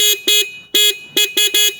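A Suzuki GS 150 motorcycle's stroke horn is pressed in short, loud repeated blasts, each a bright buzzing tone with sharp on and off edges and uneven gaps between them.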